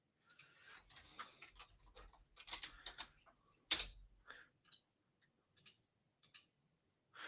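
Keys on a computer keyboard click in quiet, irregular bursts of light taps with short pauses between them, with no talk over them.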